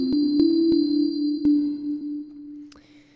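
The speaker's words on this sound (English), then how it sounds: "get kind of an older, retro, interesting synth sound out of it" A bit-reduced retro synth patch made in Ableton Live sounds a sustained buzzy low note with sharp clicky attacks, then fades and ends on a brief higher glitchy blip.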